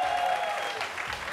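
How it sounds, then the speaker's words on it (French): An audience on a TV dating game show claps briefly, a faint scatter of applause over low background noise. "On applaudit les bétés de Dalois."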